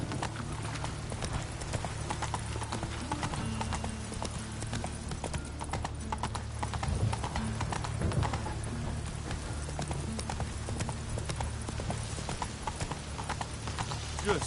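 Roach the horse gallops in The Witcher 3, with steady, rapid clip-clop hoofbeats running close and continuous throughout, over a low rumbling game soundtrack.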